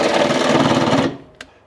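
Power drill drilling into a vehicle frame at an awkward angle, a loud steady whirring grind for about a second that stops abruptly, followed by a brief click.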